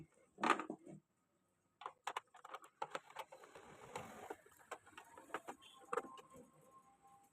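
Screws come out of a Sigma emergency light housing, heard as close, faint, irregular scraping and ticking bursts with brief pauses between turns.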